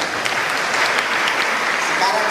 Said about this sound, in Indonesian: Tepuk tangan Tuhan kita.